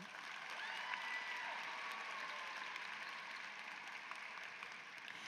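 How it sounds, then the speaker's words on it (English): Faint, distant applause from the audience at a graduation and Kente stole ceremony, a soft, even patter of many hands that holds steady for several seconds without cheering standing out. "Can we get just one big round of applause for all of the sponsors that make this event possible?"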